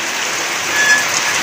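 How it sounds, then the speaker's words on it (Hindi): Heavy rain pouring onto a flooded rooftop, a dense, steady hiss of drops close by with no pauses and no voices. "तो बारिश की भी सूरत हाल चेक करो कितनी ज्यादा तेज हैगी है"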